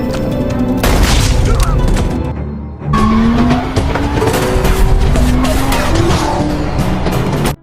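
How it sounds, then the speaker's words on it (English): A fast car roars in during a movie action scene, with a loud engine, skidding tires squealing and heavy impact-like booms, all dense and close throughout and briefly cut off near the middle. "Meanwhile, Cortez suddenly arrives on his lightning-fast car."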